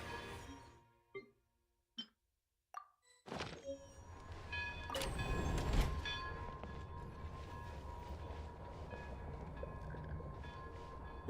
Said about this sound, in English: the train hit the snezhnograd